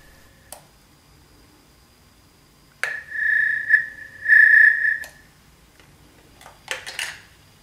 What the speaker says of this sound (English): a high-pitched sound indicates what cables are connected to the sender